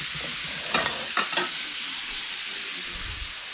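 Onions and peppers sizzle in a pan alongside sausage, a constant bright frying hiss with a few quick scraping stirs near the start.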